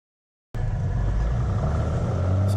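A Cessna 182 engine roars at full power during a go-around, starting abruptly and holding a loud, steady, low drone with no talk.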